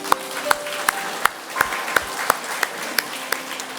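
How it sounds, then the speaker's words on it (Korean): A church congregation at a Korean morning service claps together in a slow, even rhythm, each beat sharp and distinct, with a soft murmur underneath. "그런 하나님께 우리 감사의 박수 한번 드리겠습니다."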